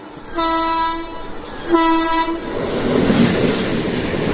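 Two loud, long blasts of a train horn sound close by, followed by the rising roar and rumble of the Lingampalli–Vijayawada Intercity Express passing near Siripuram.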